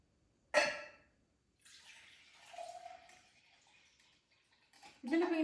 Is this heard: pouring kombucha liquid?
yes